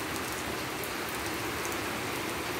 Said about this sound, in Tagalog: Nalakas ang ulan, guys.